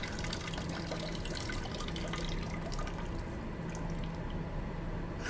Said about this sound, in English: What the heck type of flush was that?